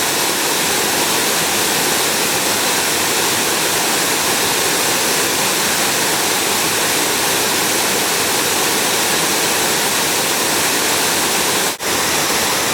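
Second waterfall along the trails at Ricketts Glen State Park, a loud, dense rushing roar of cascading water, constant and close, with a brief cut near the end.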